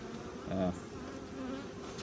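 Honey bees from a strong backyard hive, recently split, drone in a steady, close buzz that swells briefly, then settles into an even hum.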